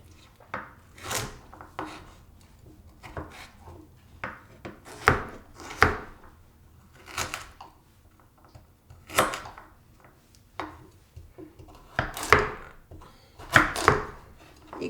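Knife chopping vegetables into pieces a bit larger than bite size for upma, heard as irregular bursts of sharp, close cuts on a board with brief pauses between groups of strokes.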